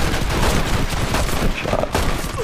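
A volcanic pistol fires during a duel in Red Dead Redemption, set amid dense, continuous gunfire and battle noise that stays loud throughout with no clear single isolated shot.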